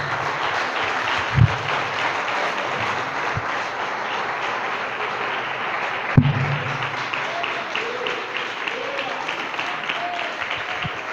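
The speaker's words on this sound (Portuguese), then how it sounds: "Vamos aplaudir o nome do Senhor Jesus." A church congregation claps steadily in praise of the name of Jesus, a continuous wash of many hands at moderate volume with a couple of louder thumps and faint voices mixed in.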